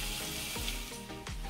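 Meat sizzles in hot oil for spicy cheese noodles, a steady close crackling fry with a couple of brief stirring scrapes, no talking over it.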